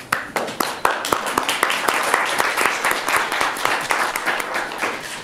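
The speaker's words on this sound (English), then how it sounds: "So welcome them, please, with a warm round of applause." Live audience applause greeting the cast and crew of the Attack on Titan film at a premiere Q&A event, many hands clapping steadily and loud throughout with sharp individual claps standing out.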